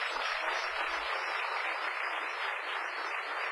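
An audience at a Chamber of Commerce Citizen of the Year event applauds steadily throughout, a dense, even wash of clapping heard from a slight distance.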